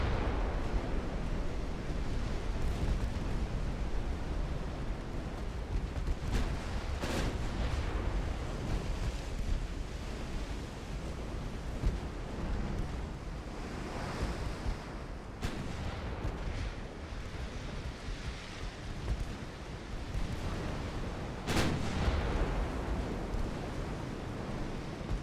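Secondary guns on warships in the naval battle game Ultimate Admiral Dreadnoughts fire in sporadic heavy booms over a steady roar of wind and sea, with several sharper reports spaced across the stretch.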